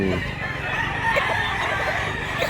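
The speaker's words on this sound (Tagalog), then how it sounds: "Wapong manok, daghan manok ron dire mga idol." Chickens and roosters at Mantalongon, Barili, Cebu crow and cluck in a continuous busy chorus, several birds calling at once over a steady background.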